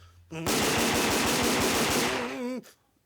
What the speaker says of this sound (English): Dang show pistols, I forgot. They're loaded with blanks.